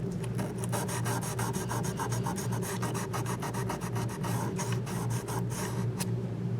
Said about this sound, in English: Again, a little 1000 grit sandpaper.